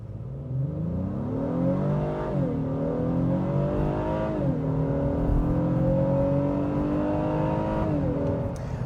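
A 2026 Honda Passport Trailsport Elite in sport mode launches from a brake-torque start on level ground, its engine revving loudly and climbing through several upshifts, with each gear change dipping the pitch before it rises again.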